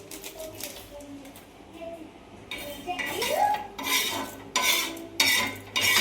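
A cold spice mix is stirred and roasted on a hot griddle, with metallic scraping and clattering strokes that grow louder and busier partway through, close by, with a voice talking softly at the start.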